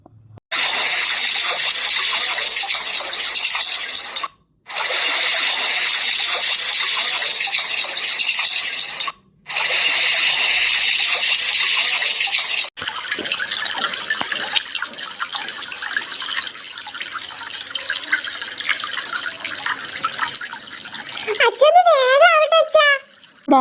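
Water for a child's bath pours in a loud, steady gushing stream that breaks off twice briefly, then turns to softer, uneven splashing, with a voice rising briefly near the end.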